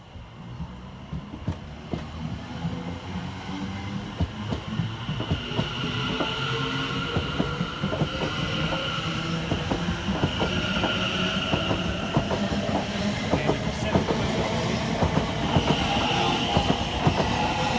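Trains passing Shenfield station on the Great Eastern Main Line, a continuous loud rumble with rapid rhythmic clatter of wheels over rail joints and rising tonal whine and squeal, sustained and close throughout.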